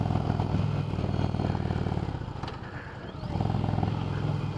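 A 2020 Indian Challenger Dark Horse motorcycle engine while riding at a demo day, with a steady throaty drone that dips briefly around a gear change and then rises again, close and continuous.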